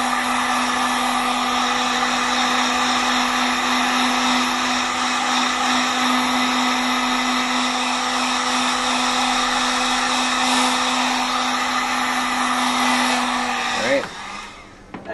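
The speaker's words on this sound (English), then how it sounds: "I'm just gonna hit this with a hairdryer real quick." A hair dryer blowing on fresh paint on a Mandalorian blaster prop, a loud steady whine held close for about fourteen seconds before it switches off.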